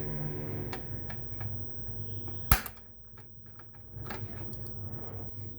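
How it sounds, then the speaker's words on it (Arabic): Side cutters snip a transistor off a circuit board in a Chinese satellite receiver, giving one sharp, close click over a steady background hum. "كده قصيت الترانزستور اهوت"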